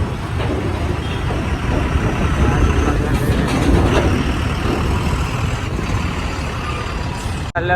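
Heavy village road traffic with trucks and water tankers rumbles past in a steady, loud drone of engines, with a sharp hiss or brake release near the end.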